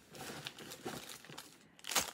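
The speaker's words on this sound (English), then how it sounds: "I got the little plastic bags. So these are little Ziploc baggies." Small plastic zip-top baggies being handled up close, giving soft crinkles through the middle and a louder, sharper crackle near the end, with no talking.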